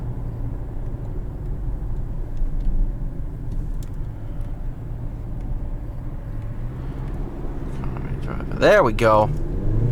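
A 2020 Hyundai Santa Fe SEL 2.0T drives and accelerates, its engine and road noise a steady low drone with a brief louder swell near the end, while a person speaks briefly.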